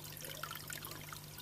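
Water trickles softly through the drain into the external filter of a small indoor aquaponics setup, a faint, steady dribble over a low constant hum.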